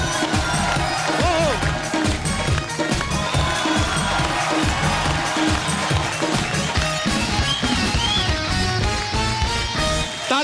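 A studio audience on a comedy talk show claps and cheers to welcome the comic poet Arun Jaimini, a loud, continuous crowd roar mixed with music.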